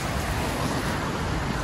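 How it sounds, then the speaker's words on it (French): Steady rain falls in Vancouver, a dense continuous hiss filling the whole moment, loud and even with no pauses. "Il pleut? Il pleut."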